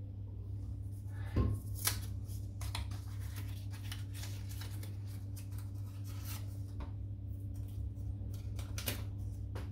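A Treat Platinum razor blade packet is popped open close by, giving faint crinkling paper rustles and a few sharp little clicks against a quiet background hum.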